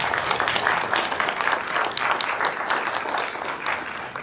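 An audience at a county spelling bee applauds the spellers, a steady wash of many hands clapping at moderate volume, sustained for several seconds without talk.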